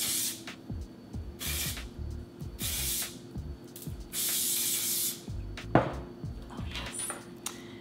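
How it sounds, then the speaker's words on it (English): Several hissing bursts from an aerosol hairspray can sprayed onto hair, short puffs and one longer blast, close by with faint background clatter between sprays. "I'm gonna again spray this around the perimeter"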